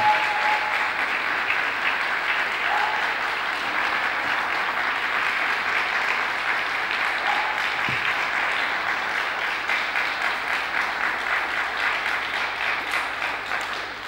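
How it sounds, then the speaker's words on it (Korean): Church congregation in a Korean church in Rome applauding to welcome an elder at a Sunday service, steady sustained clapping from a crowd that fades slightly toward the end. "우리 장로님 나오실 때 박수로 장로님을 맞이하도록 하겠습니다"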